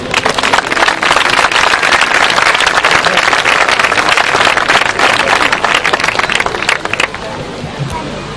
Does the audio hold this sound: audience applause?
yes